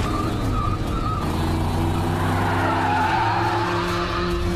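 A stolen police car tears away in a film chase, its tires skidding and squealing over a loud, continuous engine roar that shifts pitch as it accelerates.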